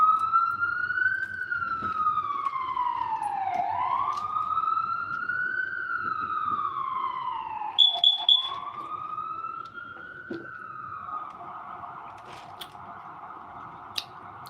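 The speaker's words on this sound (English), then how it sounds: "I hear the ambulances" Ambulance sirens wail outside in a loud rising-and-falling sweep that keeps repeating through the whole stretch, with short higher chirps partway through and faint background noise beneath.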